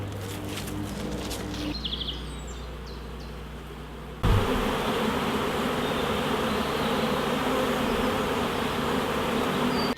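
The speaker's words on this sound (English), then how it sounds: "these bees won't mess with me at all" Honeybees from a wild hive in a forest hum in a steady, dense buzz close by, louder in the second half after a brief thud, with faint bird chirps early on.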